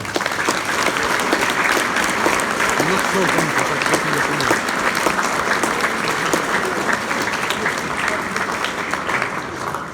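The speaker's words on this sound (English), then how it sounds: "So a big round of applause." Sustained audience applause at a school leavers' breakfast fills the room steadily and loudly, with a few voices talking over the clapping.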